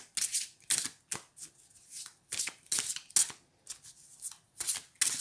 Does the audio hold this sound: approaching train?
no